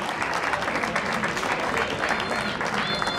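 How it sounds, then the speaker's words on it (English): Spectators give one more round of applause for both teams after a rugby match between TAFE NSW Polecats and Macquarie University, steady and close clapping for a few seconds with crowd murmur. "One more round of applause for both teams"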